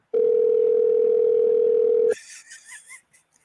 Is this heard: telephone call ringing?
yes